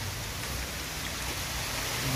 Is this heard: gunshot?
no